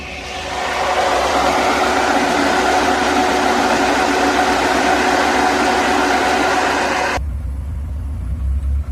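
A Zhiguli car engine runs with its radiator cooling fan on, making a loud, steady whirring drone. After about seven seconds the fan cuts out, leaving a lower engine rumble.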